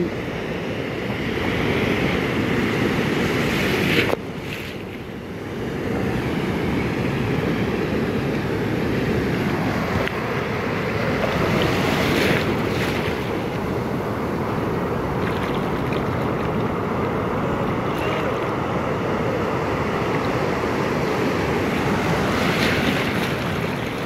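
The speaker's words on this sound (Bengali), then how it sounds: "মোটামুটি বেশ ঢেউ আজকে এই মুহূর্তে।" Ocean surf at Cox's Bazar on a morning with fairly high waves makes a loud, continuous roar of breaking water. Wind buffets the microphone throughout, and there is a short dip in the sound near the start. No one speaks.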